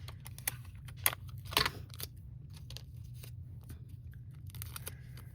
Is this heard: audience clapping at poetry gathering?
no